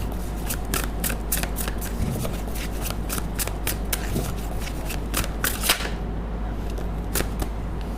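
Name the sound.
tarot cards being shuffled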